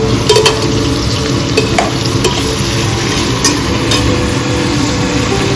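Tomatoes being stirred in a hot frying pan while cooking fish pulao, a steady close sizzle with scraping spoon strokes against the pan, loud and continuous with no talking.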